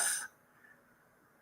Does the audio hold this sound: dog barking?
no